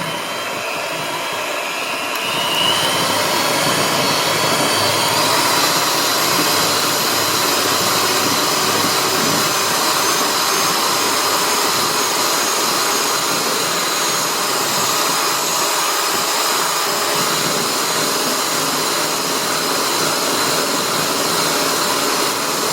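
Electric hand mixer whirring steadily as it beats lemon cream cheese pie filling until creamy, a loud continuous motor drone with a brief quieter start and no talking.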